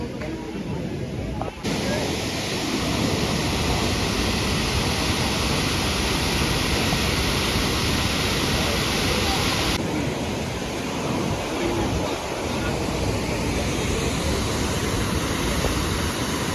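Dhuandhar waterfall on the Narmada River at Bhedaghat, among marble rocks, roars as a dense, continuous rush of falling water, loud and unbroken throughout.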